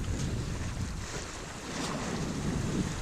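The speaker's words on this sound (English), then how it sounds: "The waves are getting bigger out here." Sea waves and steady wind noise surround a sailing boat heading toward Bornholm, a continuous broadband rush buffeting the microphone, with no voices.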